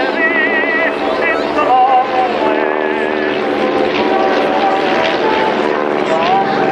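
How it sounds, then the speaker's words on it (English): A Sopwith Triplane with a rotary engine flies at an airshow, its engine a steady, loud droning buzz with a wavering pitch throughout, and a voice talking over it. "And Tommy Sopwith and his design team actually chose that triplane shape to try and get better visibility"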